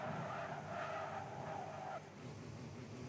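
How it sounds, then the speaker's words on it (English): Race car braking hard into a corner at Silverstone in a racing game, tires squealing in a wavering whine for about two seconds over engine drone before cutting off to a lower rumble. "That was intense braking there"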